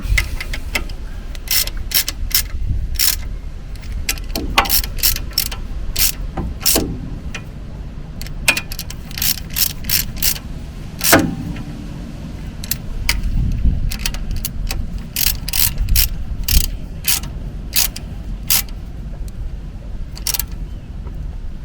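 Bolts on a Suzuki Jimny brake line bracket are tightened with a ratchet, giving many sharp, close clicks in quick bursts and irregular runs, with short pauses and faint low handling noise between them.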